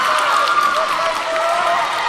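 Crowd and team bench cheering and applauding after a goal at a Netball Super League playoff between Manna and Fier Orc, a steady broadband roar of clapping and voices throughout with no single voice standing out.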